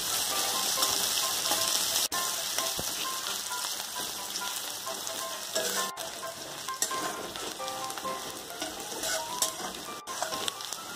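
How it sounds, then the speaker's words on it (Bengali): Onions fry in a pan with a continuous, dense sizzle and occasional sharp ticks, close and fairly loud throughout. "পেঁয়াজটাকে লাল করে ভাজতে হবে।"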